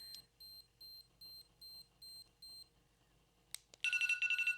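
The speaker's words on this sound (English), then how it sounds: "there goes my timer" A countdown timer on a Medicube red light facial device goes off, a run of seven evenly spaced electronic beeps followed by a faster, louder burst of rapid beeps, heard clearly in a quiet room.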